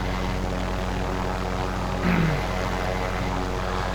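A helicopter in the video game Call of Duty Warzone drones steadily and loudly close by, a constant low rotor and engine rumble with a brief swell near the middle.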